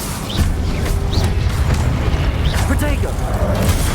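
An Incendio fire spell in Hogwarts Legacy roars out as a loud, continuous whooshing rumble, with faint chirping effects and whistles layered over a dense low-end boom.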